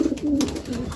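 Racing pigeons coo in low, soft repeated calls, close by, with a faint background rustle.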